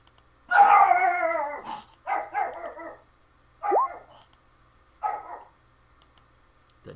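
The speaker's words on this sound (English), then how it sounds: "That did not sound like a happy doggo." A dog on a tabletop gaming session's audio lets out a long wavering howl followed by several shorter yelps and barks, spaced apart against near silence.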